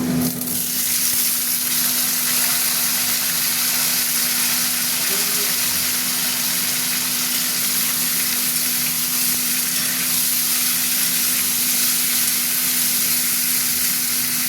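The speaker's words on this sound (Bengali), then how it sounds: "আলুগুলো ভাজবো, ভাজা হতে থাক।" Potatoes sizzle in hot oil with fried onions in a pan while aloo posto is cooked. The frying hiss is loud, close and steady throughout, over a faint constant hum.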